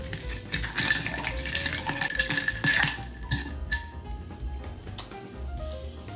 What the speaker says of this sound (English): I'm gonna crack 2 large cubes of ice in here.